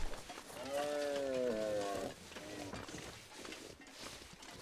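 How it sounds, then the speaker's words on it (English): A deer dying in The Long Dark video game lets out one drawn-out, bleating, moaning cry lasting over a second, then fades into quieter game ambience. "We'll probably hear the deer make a dead deer sound."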